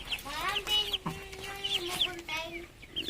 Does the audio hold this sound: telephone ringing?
no